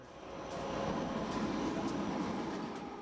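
A train rolls past a crossing on Forest Glen Road in Silver Spring without sounding its horn, a steady rumble and rattle of wheels swelling and holding for a few seconds, moderately distant, with no horn heard.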